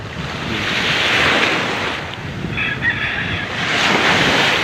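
Steady ocean waves wash and hiss onto the shore, a broad continuous surf roar with wind, swelling slightly toward the end.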